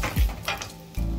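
Red chili, bay leaf and hing sizzle in hot oil, a short burst of frying crackle with a clack of spoon or pan, then the sizzle surges again loudly near the end.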